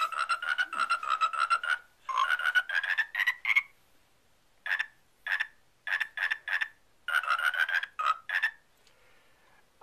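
A Michigan State novelty toad toy croaks out a loud, close, rhythmic run of repeated croaks in bursts, pausing briefly between phrases, with no talking over it.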